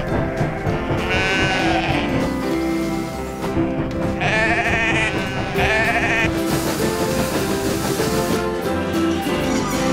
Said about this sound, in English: Well, at least the sheep are enjoying our strawberries, Alf.